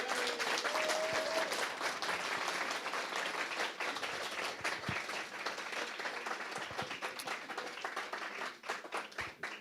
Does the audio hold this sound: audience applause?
yes